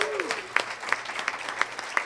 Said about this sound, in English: please give her a welcoming round of applause